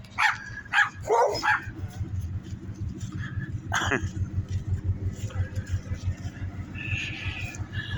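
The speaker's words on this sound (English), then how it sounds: "I opened the door in the truck and he quit barking." Dogs bark in short bursts near the start and again around the middle over a steady low engine-like rumble outdoors, with a tow truck and an old Ford pickup nearby.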